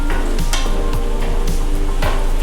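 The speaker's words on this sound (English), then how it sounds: "peppers are cooking up nicely, so now he adds the garlic" Peppers and garlic fry in a pan for seafood paella, giving a steady close sizzle broken by a few quick scraping stirs, with no talking.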